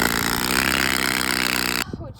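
Trading card flapping in the spokes of a bicycle wheel, a loud rapid rattling buzz like a small motor, running steadily before stopping abruptly, followed by a brief voice.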